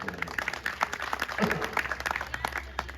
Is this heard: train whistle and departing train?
no